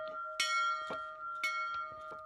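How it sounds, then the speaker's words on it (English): A peace bell at a battlefield memorial near the Hungarian site where Turkish and Hungarian armies fought in 1526 is struck twice, each loud, bright strike ringing on with a sustained, shimmering hum between blows. "This peace bell is a reminder of the bloody past"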